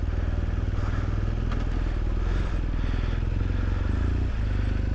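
A motorcycle rolls slowly in first gear on a hairpin of the Stelvio Pass, its engine a steady, loud, close low chugging that runs throughout with no pause.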